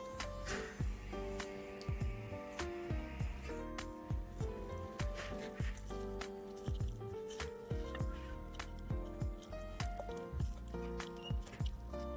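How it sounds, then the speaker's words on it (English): Raw salmon fillet being skinned with a knife, giving repeated wet squishes and sticky slaps of flesh, close and fairly loud, with soft scraping between, no talk. "I'm going to take the skin off and then I'm going to season it."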